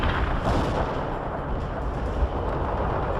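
Main tank guns fire shells in the video game World in Conflict, a dense, loud stretch of booming rumble with a sharper blast standing out near the end.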